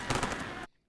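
Handheld fireworks tube firing at an outdoor street celebration in Philly, a rapid loud crackling burst of shots for most of a second that cuts off abruptly into near silence.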